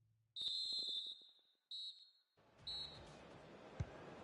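A referee's whistle in a football video game blows in three sharp, shrill blasts, the first the longest. A stadium crowd's roar then swells up behind them.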